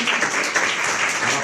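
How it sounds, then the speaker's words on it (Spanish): An audience applauds for Alex, a brief dense burst of steady clapping heard close and fairly loud. "Un aplauso para Alex,"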